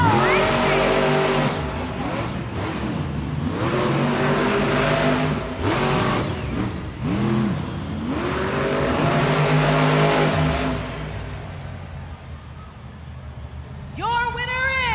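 Monster Jam monster trucks race in an indoor arena, engines roaring and revving in repeated surges over about fifteen seconds, loud and close, with crowd noise and an announcer's voice mixed in.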